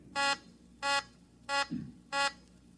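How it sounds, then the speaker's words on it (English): A beeper plate sounds with four evenly spaced buzzing electronic beeps, sharp and harmonic-rich, with a brief low thud between the third and fourth. "Put a couple of them over your beeper plate."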